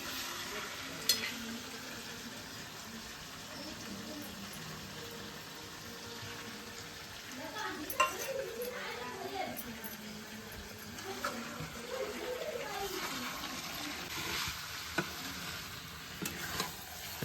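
Ground masala paste for black chicken sautés in a pan over a wood-fired stove, a low steady sizzle with intermittent scraping and stirring clatters, fairly quiet and close.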